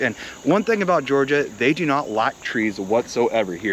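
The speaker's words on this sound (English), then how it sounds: "you get to hear the cicadas" Cicadas buzz among dense trees in a north Atlanta, Georgia suburb, a steady high drone under a person talking continuously up close.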